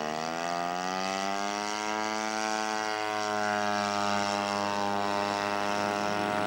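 Scale model Sea Fury aircraft with a 4.2 engine runs at a steady, loud drone, its pitch rising slightly then holding even at an outdoor scale aircraft show.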